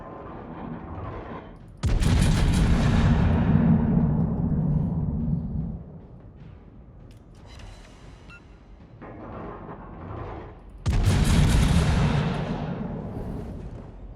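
Secondary guns of the German Tier 7 battleship Prinz Heinrich firing in World of Warships, heard as two heavy, booming salvos several seconds apart. Each blast rolls out long and loud, with quieter rumbling between them.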